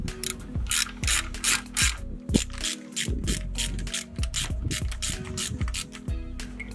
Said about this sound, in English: What we'll use for this is a 13mm socket on a ratchet